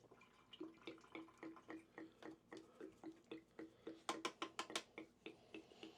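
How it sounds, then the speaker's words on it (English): Water gurgling in a painter's brush-cleaning station, filling and draining as brushes are rinsed: a steady, regular series of soft drips and bubbling pulses, close and faint, with a brief brighter flurry near the end. "If you wonder what that gurgling is, it's my water cleaning station there."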